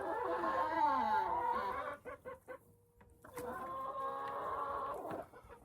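Upset chickens on a small farm cluck and squawk loudly up close, a rising agitated call followed by choppy clucks, a brief lull, then another sustained burst of agitated cackling.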